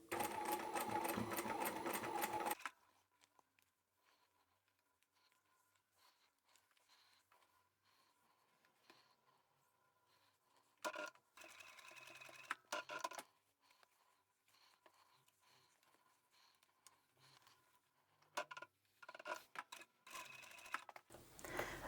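Sewing machine stitching a fabric chemo cap (twisted head wrap), a loud steady whir for the first few seconds, then short bursts of stitching a little at a time, separated by quiet pauses and faint handling of cloth.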